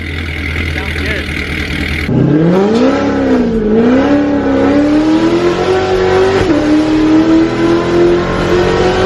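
Z06 Corvette fitted with long tube headers and exhaust roars to life, then revs with a loud, rising engine tone that settles into a steady high idle, close and dominant.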